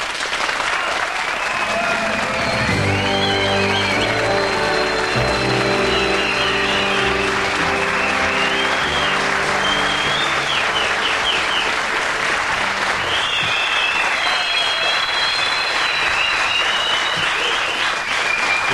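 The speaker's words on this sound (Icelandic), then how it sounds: "það er ekki smá fagnaðarlæti" A studio audience on a 1994 Icelandic television talk show breaks into loud, sustained applause lasting many seconds, with cheering and whistles over the clapping to welcome Jóhanna Sigurðardóttir.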